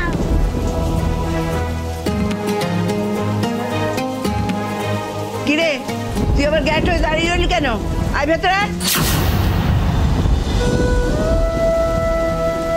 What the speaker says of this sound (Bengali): ঝড় বৃষ্টিটা থামিয়ে দাও ঠাকুর